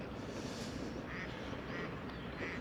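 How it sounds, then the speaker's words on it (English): A white duck quacks in three short repeated calls against steady outdoor background noise, with no talking. "It's a white duck"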